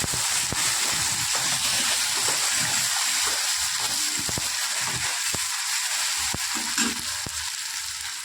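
Garlic paste sizzles in hot oil with cumin, making a steady, close frying hiss broken by occasional light clicks as the pan is stirred.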